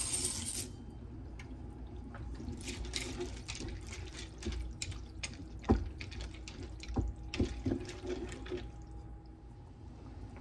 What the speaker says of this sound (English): I'm gonna get the macaroni in here before I manage to forget it